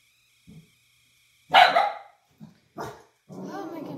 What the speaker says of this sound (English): my dog heard a knock or something on the wall and always screeches like that when she barks